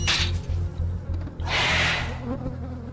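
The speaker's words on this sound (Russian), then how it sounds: "Мухи летают, как будто здесь насрано." Flies buzzing in the horror video game Oakwood, a close, loud droning hum that swells and fades in passes around the listener, heard alone without speech.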